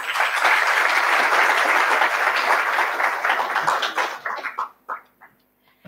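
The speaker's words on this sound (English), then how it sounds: "A big round of applause for our honorable guests." An audience gives a loud round of applause for honored guests at a university event: dense clapping that thins into a few scattered claps before stopping.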